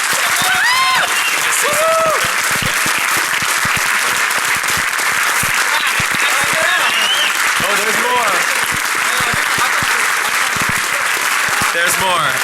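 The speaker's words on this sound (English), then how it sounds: "So please give your strongest round of applause for Mudge and everything he's done for the security community." Loud, dense applause from a large DEF CON 21 hacker conference audience fills the whole stretch without pause, dotted with whistles and scattered cheers.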